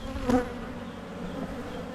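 Honey bees buzzing around an open beehive in spring, a continuous droning hum close by with one brief louder pass near the start, no talking.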